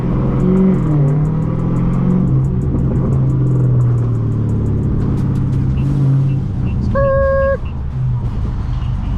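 A 1000hp Dodge Hellcat revs and accelerates on Los Angeles streets, a loud, deep engine roar building and holding for several seconds, with a brief lull and a short tonal chirp near the end.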